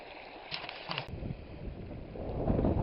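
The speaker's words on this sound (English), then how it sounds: "freaking wind's picking up." Wind gusts at a creek where a sluice is being tested, a loud broadband rush and rumble against the microphone that rises toward the end, with no talking.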